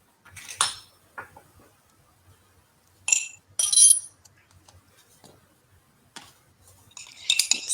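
Baking powder being stirred into flaxseed bun dough in a bowl, heard as scattered clinks and scrapes of a utensil against the bowl in short separate bursts, fairly close, with no talk.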